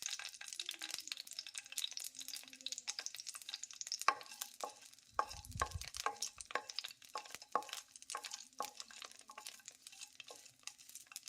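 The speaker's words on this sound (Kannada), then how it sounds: "ಈಗ ಇದಕ್ಕೆ ಹಸಿಮೆಣಸಿನ್ಕಾಯಿ ಹಾಕ್ಕೊಳ್ತೇನೆ. ಎಣ್ಣೆಯಲ್ಲಿ ಇವನ್ನ ಹುರ್ಕೋಬೇಕು." Green chillies frying in oil in a pan for tomato chutney, a faint crackling sizzle with repeated stirring and scraping clicks of a utensil, no talking.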